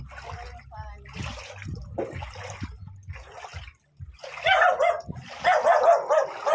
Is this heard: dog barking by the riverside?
yes